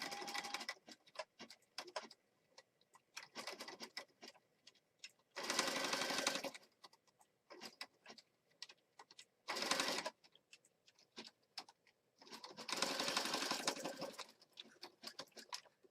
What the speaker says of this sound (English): I'm stitching.